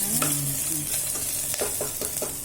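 Ginger and garlic sautéing in a pan with mild chillies for a sweet corn vegetable pulao, a soft steady sizzle broken by several short scraping strokes of a spatula stirring, close and fairly quiet.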